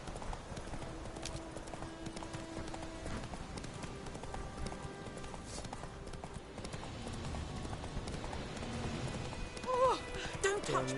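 Roach the horse galloping in Witcher 3, steady rapid hoofbeats over a dense game soundscape with music, running throughout while someone talks over it.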